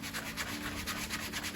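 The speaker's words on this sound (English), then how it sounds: "just gently sand that circular motions, and I can see that that's very quickly just removing" A suede shoe is sanded to lift dirt, giving a soft, close rhythmic rubbing in quick back-and-forth strokes that stays fairly quiet throughout.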